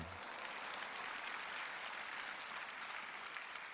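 Audience at a church gathering applauding for the pastor's wife, a steady, fairly faint wash of clapping from a distant crowd with no voices over it.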